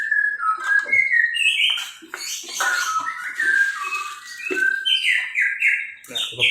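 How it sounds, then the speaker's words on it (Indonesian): An oriental magpie-robin sings from a neighbouring cage in a run of bright, varied whistles and chirps, loud and fairly close, continuing throughout with no talking over it. "Burung gua masih bunyi tuh ya, murai kandang sebelah."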